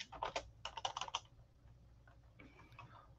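Fingers typing on a computer keyboard, a quick burst of about a dozen crisp, close key clicks in two clusters, then a few softer scattered taps over quiet room tone.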